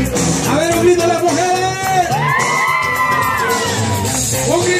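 A crowd of women at a Salvadoran Clown Day show lets out high, drawn-out shouts and whoops that swell together. The sound is loud and sustained for several seconds, with a few voices standing out above the mass.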